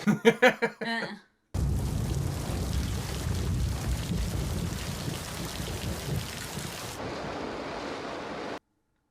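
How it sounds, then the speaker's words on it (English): Heavy rain pours steadily at night, a dense, loud hiss with rumbling low end that runs unbroken for several seconds after a short burst of other sound, then cuts off abruptly. "It's pissing rain out there."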